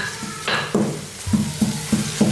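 Onions fry in a pan while a spoon stirs them, giving a steady sizzle with a few distinct stirring scrapes and knocks against the pan at a regular pace, close and moderately loud.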